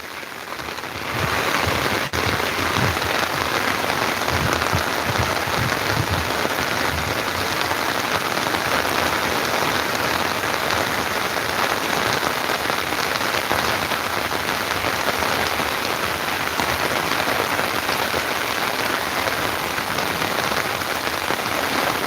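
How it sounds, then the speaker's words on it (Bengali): Heavy wind-driven rain pours down during a village storm on an afternoon, a dense, loud, unbroken roar of drops drumming on surfaces, close and steady for the whole stretch with no voices. "বাতাসের সাথে বৃষ্টি পড়ছে উপরে"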